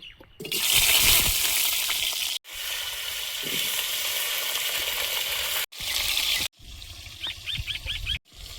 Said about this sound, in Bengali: পুঁই শাকের ডাঁটা আর আলু আগে ভেজে নেব। আগে আলুটা দেব।